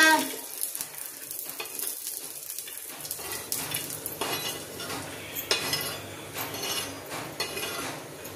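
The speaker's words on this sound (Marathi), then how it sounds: "लसूण टाकीते तळायला." Garlic frying in hot oil, a steady crackling sizzle that swells after a quieter start, with occasional utensil scrapes and clinks.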